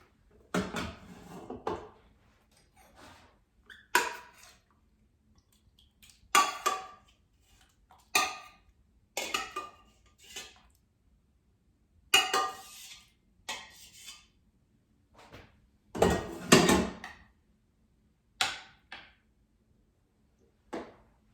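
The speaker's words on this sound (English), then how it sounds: "So now let's transfer gnocchi from the Instant Pot to a plate" Gnocchi being moved from an Instant Pot onto a plate, a slow series of separate metal and ceramic clinks and scrapes of a utensil against the pot and dish, with quiet gaps between them.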